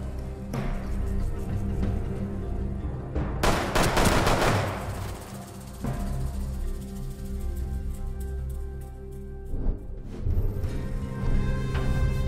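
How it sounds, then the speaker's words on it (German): Gunfire in a Western-themed event of the video game Rainbow Six Siege: rapid bursts of shots over a dense, constant game soundscape, with the heaviest volley about midway and another burst near the end. "Schüsse."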